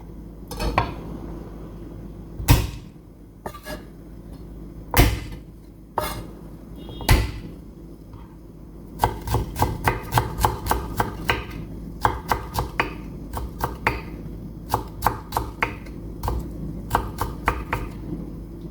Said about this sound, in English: add a stalk of dried green onion, crushed and finely chopped, to the pot with the meat